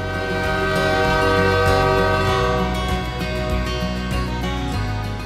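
A train near Sault Ste. Marie, Canada rumbles steadily with a low droning engine and sustained tonal hum, loud and close, with no talking.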